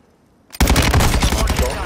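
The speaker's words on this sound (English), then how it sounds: "Taking effective fire!" Video game gunfire bursting in suddenly after a quiet moment, a loud, rapid stream of automatic shots that keeps going to the end.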